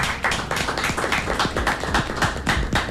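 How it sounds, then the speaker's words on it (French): A small group claps close by in a casual indoor setting with a band visiting. The individual hand claps are distinct and crisp, quick and slightly uneven, continuing steadily for about three seconds. "On va applaudir pour cela."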